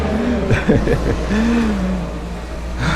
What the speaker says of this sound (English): There's a car passing by